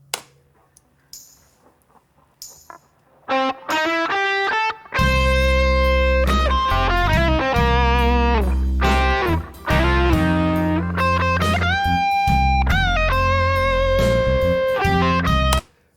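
Blues electric guitar played through distortion with room reverb, sustained bent notes and chords ringing loud and alone after a few quiet picked notes at the start.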